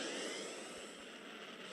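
A warp engine spooling up aboard a spaceship in the sci-fi game Second Galaxy, a steady roaring jet-like whoosh that holds loud and even throughout with no talk over it.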